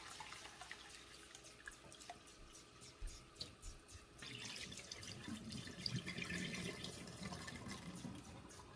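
Rice is rinsed under a running tap, water splashing and trickling steadily into the sink, getting fuller and louder halfway through.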